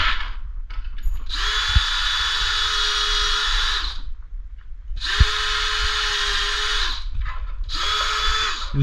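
A power drill fitted with a larger bit bores through material in three sustained whining bursts separated by short pauses, loud and close, with no talk.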